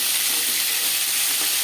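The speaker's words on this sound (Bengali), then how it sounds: "একটা সাইড ভাজা হয়ে গেলে অপর সাইডটা উল্টে দেব।" Bhola fish frying in a pan of hot oil, a loud, close, unbroken hiss and sizzle held at an even level throughout.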